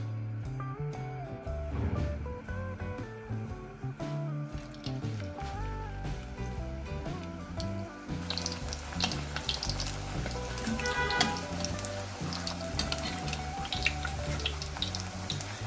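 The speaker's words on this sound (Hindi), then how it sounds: "ऑयल गरम हो गया, और अब मैं इसमें डाल रही हूँ पूरी" Puris sizzle and bubble in hot oil over a medium flame, a continuous crackling hiss that grows busier and brighter partway through, with clinks of utensils and a faint background tune.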